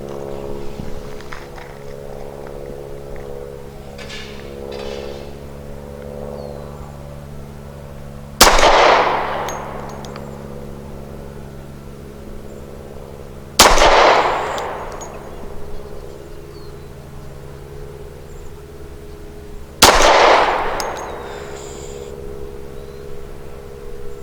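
A Rock Island Ultra CCO pistol fires 230-grain full metal jacket rounds, three sharp, loud shots spaced several seconds apart at an outdoor range, each with a short decaying echo over a steady background hum.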